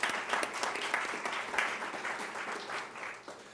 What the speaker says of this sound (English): So in his absence, let's applaud him.